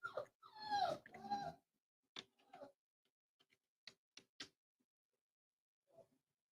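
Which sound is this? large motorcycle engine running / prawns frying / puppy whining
puppy whining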